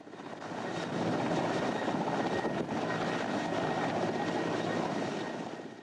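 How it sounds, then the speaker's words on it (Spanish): Helicopter rotor blades thud and whir in a steady, loud drone that swells in, holds for several seconds, then eases off slightly, with no voices. "Las aspas del helicóptero suenan como si el aparato estuviera dentro de un sueño."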